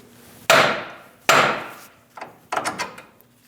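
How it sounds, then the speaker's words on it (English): Hammer striking the steering knuckle of a 2001-2006 Chevrolet Silverado 2500 HD to free the outer tie rod end, two loud sharp metallic blows followed by several lighter quick taps, close and alone. "We're going to use a hammer and hit right here."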